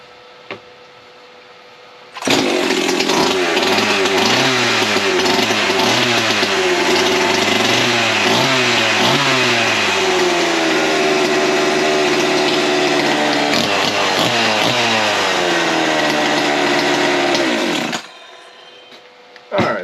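A Husqvarna 346xp chainsaw engine roars close and loud, repeatedly revving up and dropping back in rising and falling sweeps for about fifteen seconds before cutting off, with quiet before and after.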